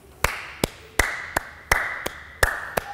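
Sharp hand claps in a body percussion canon, about eight in a steady quick rhythm over a few seconds, close and bright with short room echo and no voices.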